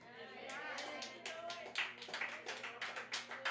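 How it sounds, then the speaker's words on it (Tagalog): A church congregation applauds during a sermon, with scattered, loose hand claps rising and falling over a few seconds while a voice carries on over the clapping. "Parang hindi kayo kumbinsido sa inyong palakpak, mga kapatid."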